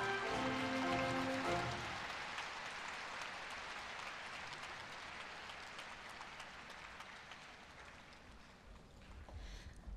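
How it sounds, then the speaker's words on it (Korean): Applause from a large audience at a Korea University freshman entrance ceremony: a broad wash of clapping that carries on for the whole stretch and fades gradually, with a few held tones at the start. "다시 한번 힘찬 박수 부탁드립니다."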